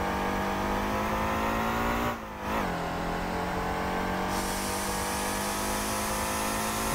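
A Hummer engine in the driving game Motor Town roars steadily and loudly throughout, with a brief dip in pitch and volume partway through before the drone settles back to a constant hum.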